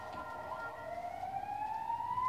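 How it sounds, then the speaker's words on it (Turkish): An emergency vehicle siren passes outside, a faint, steady wail that slowly rises in pitch and grows a little louder, heard from a distance with no talking. "Dışarıdan ambulans mı geçiyor?"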